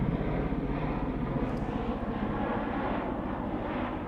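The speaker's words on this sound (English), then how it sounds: "Whoa, is that an Osprey?" A V-22 Osprey tiltrotor aircraft passes overhead with a broad, steady, loud rumbling roar that holds throughout with no pauses.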